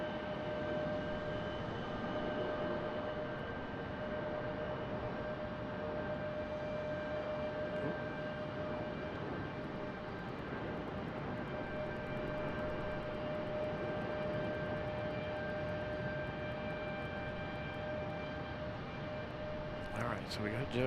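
A CRJ regional jet takes off at Raleigh-Durham International Airport, its steady engine roar holding loud and constant throughout, with a tonal whine riding on the broadband rush.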